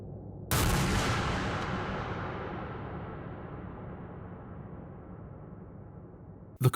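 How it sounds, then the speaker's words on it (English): A single loud gunshot in the horror video game Mouthwashing, heard as a sudden sharp blast with a long echoing tail that fades over several seconds, then silence and a brief click at the end. "He walks off screen, and a gunshot leaves little to the imagination."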